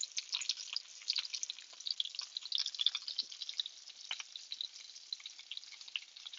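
Breaded chicken cutlets frying in olive oil in a pan, a continuous close, crackling sizzle of tiny pops and spatters that stays fairly even throughout, with no voices.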